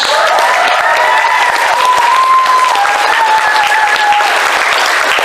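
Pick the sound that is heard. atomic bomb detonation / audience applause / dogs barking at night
audience applause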